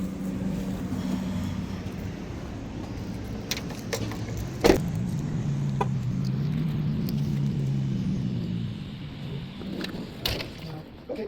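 A car pulls slowly into a Mavis tire shop lot with a soft low engine hum and tyre rumble, broken by a sharp click or thump partway through and a few faint rattles.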